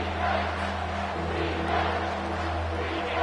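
Stadium crowd at a college football game against West Virginia, roaring steadily after a big third-down play; a dense, sustained mass of cheering with a low constant hum underneath.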